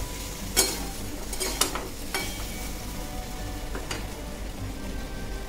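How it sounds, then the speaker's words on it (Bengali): Vegetables seasoned with turmeric and salt frying in a pan, a steady soft sizzle broken by several sharp scraping stirs of a utensil against the pan. "দিয়ে এটাকে ভালো করে নেড়ে নেব।"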